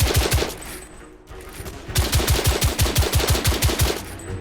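Rapid automatic gunfire from a firefight in The Order: 1886, with a short burst, a brief pause, then a longer sustained string of evenly spaced loud shots with no speech.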